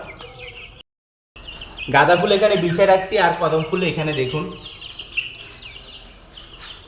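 Fancy Brahma and frizzle chickens cluck and chirp in the background while someone talks loudly over them, the birds mostly masked by his voice.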